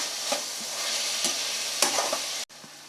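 Ginger garlic paste fries in a pan for a mushroom pepper masala, a steady sizzle broken by a few scraping stirs of a spoon, ending with a sharp knock and a quieter continued sizzle.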